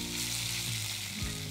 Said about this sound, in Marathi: ठेचा छान परतून घ्यायचा तुपामध्ये